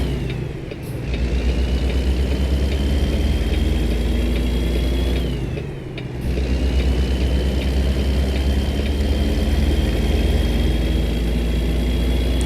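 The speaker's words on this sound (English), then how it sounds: "And this lorry sounds terrible." A lorry engine in American Truck Simulator drones steadily at close range, a heavy low rumble with a thin high whine that dips twice briefly, as if on throttle changes, then resumes.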